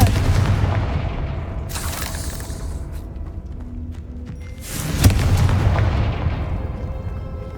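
A Confringo fire spell explodes in Hogwarts Legacy, a sharp booming blast followed by a rumbling decay, then a second loud burst with crackling debris under a soft ambient game bed.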